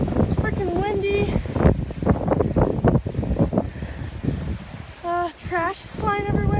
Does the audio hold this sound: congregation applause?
no